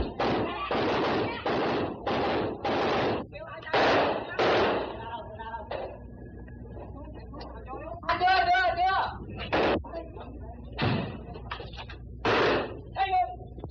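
Vietnam war newsreel of Rangers and Marines fighting through a town under sniper fire: sharp gunshots and explosive bangs crack out intermittently between and under someone narrator's voice.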